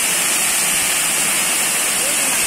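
The Kaaka Kaaki waterfall at Charanmal, Maharashtra, gives a loud, close, unbroken rushing roar of falling water with a broad, steady hiss that stays constant throughout.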